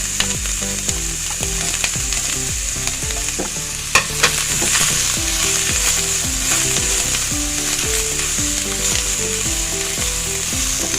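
Thinly sliced carrot and green capsicum stir-fried on high heat for about a minute, with loud continuous sizzling and frequent stirring clatter over soft background music.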